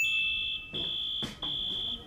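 A security alarm from the film Tomorrowland gives off a steady, piercing electronic tone that cuts out briefly and resumes, with faint background noise beneath.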